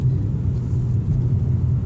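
A Mitsubishi Lancer Ralliart pulls at full throttle on a highway in Mexico, its engine a loud, steady low rumble heard from inside the car, with no talking.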